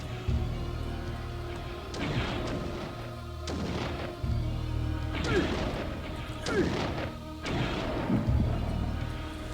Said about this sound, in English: Stop with your shooting me.